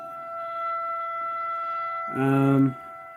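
An electronic siren holds steady tones, then gives a brief louder buzzing burst lasting about half a second before settling back to the quieter tone.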